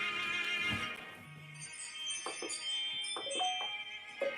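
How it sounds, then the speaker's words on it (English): A bell chimes near the start, followed by scattered tinkling, jingling tones at moderate volume with no speech. "You heard the bell for confirmation."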